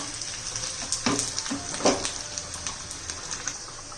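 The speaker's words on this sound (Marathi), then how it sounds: "छान असं फोडणीचा" A mustard seed, cumin, dried red chilli, crushed garlic and ginger tempering spits in hot oil for spinach and pea bhaji, a dense close sizzle with scattered sharp pops and crackles and no talk.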